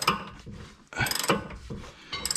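Ratcheting clicks from a wrench tightening a threadlocked wheel bolt on a sixth-generation Ford Taurus, coming in uneven close bursts.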